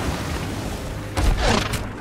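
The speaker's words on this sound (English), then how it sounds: "Again, a cannonball followed me." Cannon fire in the pirate video game Sea of Thieves: a deep boom followed by a rumbling blast of impact, short and fairly close, over a steady background hum.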